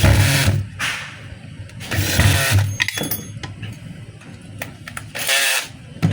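Metallic clinks and ratcheting scrapes as two screws are tightened while a Makita 4131 circular saw is reassembled after a field coil replacement, loud and close, in irregular bursts with handling knocks.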